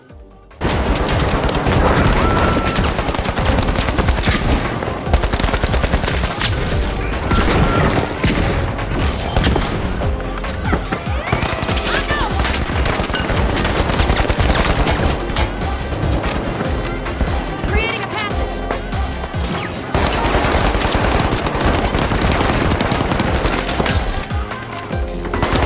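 Dense, sustained gunfire from a first-person shooter match in The Finals, loud and nearly continuous for the whole stretch, with bursts layered over a busy game mix and no clear pauses.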